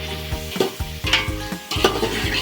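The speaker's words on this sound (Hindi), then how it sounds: "अब हम इसमें डालेंगे सब्ज मिर्चें, डालकर इनको भी अच्छे से भून लेंगे इसी मसाले के साथ" Green chillies stirred and fried in masala for chicken pulao, with close, loud scraping strokes of a spoon against the pan in an uneven rhythm over a steady sizzle.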